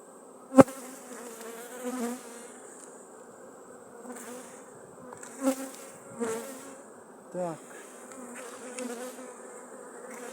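Carpathian honeybees buzz steadily inside an overcrowded hive frame, a close continuous drone with a few sharper bumps and knocks as the colony is handled.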